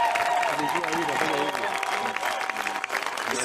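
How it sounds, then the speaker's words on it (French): A crowd at a religious conference in Nakuru, Kenya, breaks into dense, sustained applause, close and lively, with voices and some cheering mixed in throughout. "Pouvons-nous applaudir au Seigneur?"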